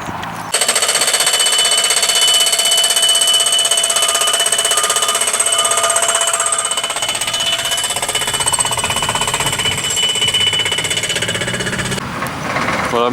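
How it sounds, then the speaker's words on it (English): A pneumatic drill hammers continuously and loudly at a solar farm construction site in Gloucestershire, fitting solar panel stands, a steady rapid rattle that runs almost the entire time and stops abruptly near the end. "And you can hear the sound of a pneumatic drill."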